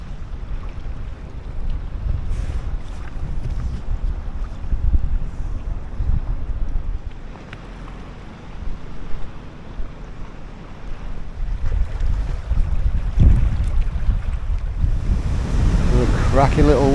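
Wind and waves around an inflatable kayak on Loch Ness: gusty wind rumble buffets the microphone while water sloshes and laps against the boat, easing midway and then rising louder with churning splashes near the end.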